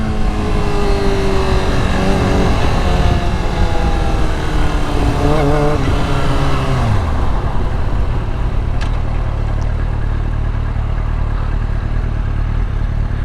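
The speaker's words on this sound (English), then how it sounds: "once you start revving it out a bit." A 2005 Yamaha R6 motorcycle engine revs up and down with rising and falling pitch, loud and close, then settles into a rough steady idle.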